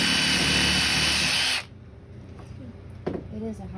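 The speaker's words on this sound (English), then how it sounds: "Drilling pilot holes to make sure we don't split the wood" A power drill whines loudly for about a second and a half, boring pilot holes into wood, then stops, leaving quiet room sound with a few light knocks and handling noises.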